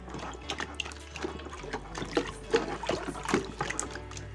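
Water drips and trickles out of a soaked terracotta clay flower pot as it drains, irregular close splashes and dribbles over a low background hum.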